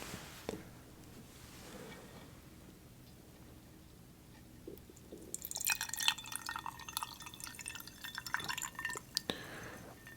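Crown Royal whisky poured into a cup, heard as close, quiet trickling and dripping with small glassy splashes that grow busier toward the end.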